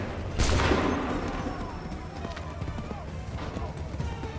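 A musket volley fired by a line of soldiers in Assassin's Creed III Remastered: one loud burst of massed gunfire followed by rolling echoes and a battlefield rumble, with voices in the background.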